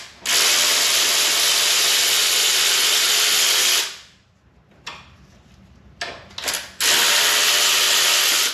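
A loud, steady whir of a power tool removing 14 mm bolts on a Yamaha FZ motorcycle water pump, running for several seconds, stopping, then starting again after a few short bursts and clicks.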